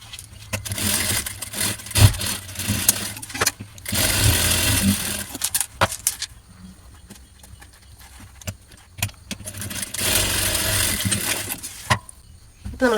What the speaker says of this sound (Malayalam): ഇതുപോലെ രണ്ട് സൈഡും വെച്ചിട്ടൊന്ന് സ്റ്റിച്ച് ചെയ്തെടുക്കുന്നുണ്ട്